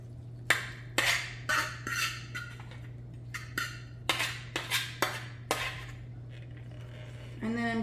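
Casserole mixture of steak, onions, peppers and garlic is scraped and spooned into a baking dish, giving a series of distinct clinks and knocks of utensil on dish over a steady low hum.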